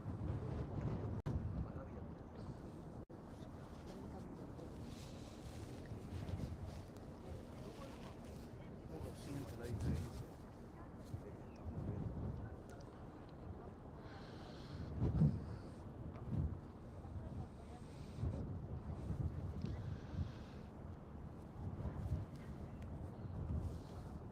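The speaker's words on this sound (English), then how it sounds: "we've got a good breeze coming off the side, so it feels cold" Breeze blowing across the deck of the MSC Meraviglia cruise ship as it sails out of Brooklyn, New York; a steady, soft wind rush with gusts buffeting the microphone, heard under someone talking.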